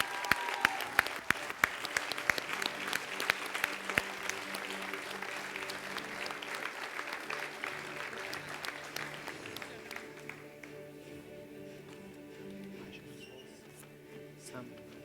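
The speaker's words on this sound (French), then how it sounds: "On applaudit bien fort." Enthusiastic clapping from a group at an awards gala, dense and loud at first, then gradually thinning and fading toward the end.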